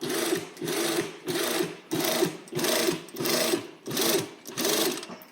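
An industrial sewing machine stitches in eight even bursts, each run starting and stopping in a steady rhythm, close and clear with no talking.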